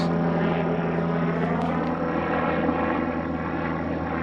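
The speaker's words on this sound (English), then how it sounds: "Does seem oddly late for a helicopter." A helicopter drones steadily overhead, loud and continuous, with a constant low rotor hum throughout.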